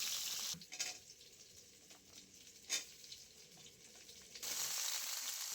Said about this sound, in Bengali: এবারে আমি কেটে রাখা আলু, সজনে ডাঁটা তেলের মধ্যে দিয়ে খুব ভালো করে কষিয়ে নেব আগে।